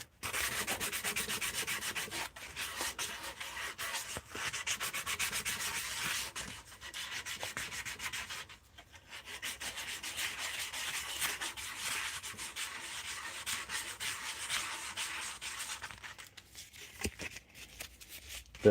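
Wood is sanded by hand with 120 grit sandpaper, giving a continuous close scratchy rubbing in quick back-and-forth strokes with a few brief breaks, and no one talks.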